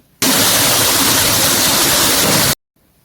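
Fish slices frying in a one-pot pan give a loud, steady sizzle that starts abruptly, holds evenly for about two seconds, then cuts off into near silence.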